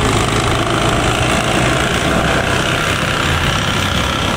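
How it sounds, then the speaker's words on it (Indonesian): Lodaya morning passenger train running straight through Rancaekek station without stopping, bound for Solo Balapan; a loud, steady, continuous rumble and roar of the passing train throughout, with no talk. "Lodaya pagi melintas langsung di stasiun Ranca Ekek menuju tujuan akhir stasiun Solo Balapan"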